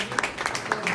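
Guests at the opening ceremony of a Delhi wellness centre clap for the staff, giving a brief, moderate patter of claps with voices mixed in.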